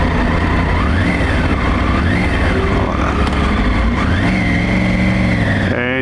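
A Triumph Tiger 900 Rally Pro motorcycle engine runs loud and continuous while riding, its pitch rising and falling through several shifts under constant wind rush.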